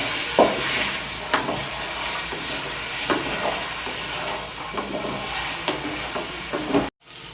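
Lamb meat frying and being stirred in a karahi, a steady close sizzle with intermittent scraping clicks of the utensil against the pan, ending in a brief dropout.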